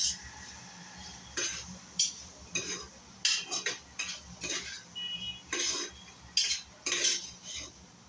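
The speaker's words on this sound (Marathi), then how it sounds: "हे मिश्रण आपण चांगलं मिक्स करून घेऊया." A spoon scrapes and clinks in a pan while stirring a tomato mixture with coriander powder, turmeric, red chilli powder and garam masala for veg pulav, irregular metallic taps close by over a faint sizzle.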